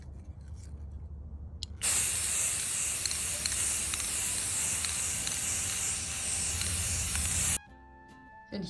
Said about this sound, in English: we're gonna take these guys outside, spray paint them